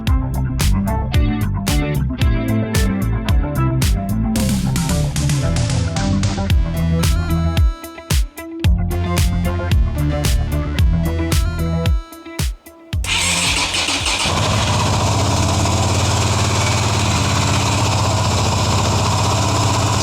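A bobber motorcycle engine with a carburetor cranks and fires up with uneven, stuttering bursts, then settles into a steady, rough-running idle that carries on loudly and close by.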